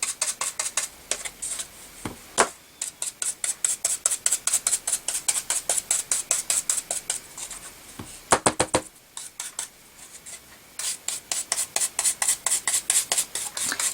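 Treasured Gold gilding wax being rubbed around the edges of an MDF box, close rapid rhythmic rubbing strokes in quick bursts with brief pauses between runs.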